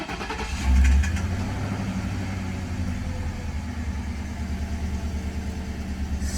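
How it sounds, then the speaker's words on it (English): A 2000 Ford Crown Victoria police interceptor, just fitted with new spark plugs and coils, cranks and starts with a loud surge, then settles into a steady, rumbling idle close by. "Now we'll go see if the car starts."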